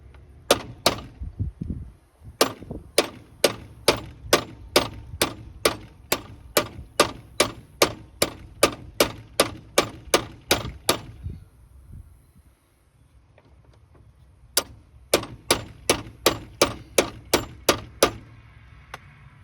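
Sharp metallic hammer blows drive roll pins out of an old cabover truck's shifter linkage, striking in a fast steady series of about two dozen close, loud hits, a brief pause, then another quick run of strikes.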